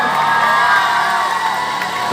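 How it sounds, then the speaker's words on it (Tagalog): A live band show crowd at Robinson's Galleria cheers, whoops and shouts loudly in a dense continuous roar. "Isang malakas na sigawan at panabahan po ba?"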